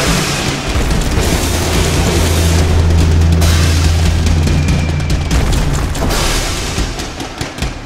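Video game fire and explosions roar as a loud, continuous barrage of booms and crackling blasts. The dense, overlapping rumble keeps going without a break.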